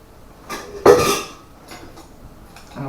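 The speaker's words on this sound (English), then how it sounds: "I got the Stanley pot right here." A Stanley camping pot is handled, giving a few close metallic clanks and one louder clattering knock, followed by quieter faint taps, with no one talking.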